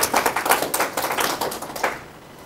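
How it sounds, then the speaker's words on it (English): Audience applause breaks out after a talk on money, a burst of many hands clapping rapidly and fairly close for about two seconds before fading out. "Give Seamus a big clap here."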